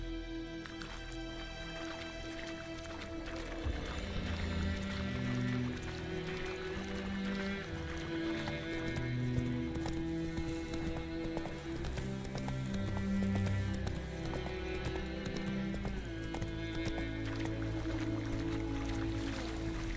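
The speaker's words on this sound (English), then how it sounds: "Whoa there, Roach." Horse galloping in the video game The Witcher 3: Wild Hunt, steady rapid hoofbeats throughout with a brief whinny, layered under continuous game music.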